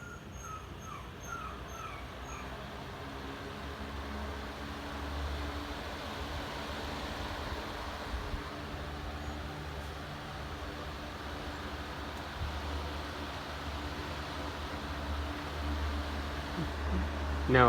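A 12-inch Allen + Roth Dexter ceiling fan, a 2020 remake mounted on a testing rig, runs at medium speed with a steady, low, even hum and airy whoosh, fairly faint and continuous throughout.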